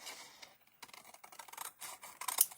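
Scissors snipping through card pieces for a fancy gatefold card, a few quick close crisp cuts with small pauses, alone without talk.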